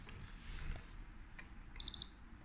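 A Geek L-B200 fingerprint door lock gives one short electronic beep, a clear high tone lasting about a quarter second, heard close up over quiet room hum.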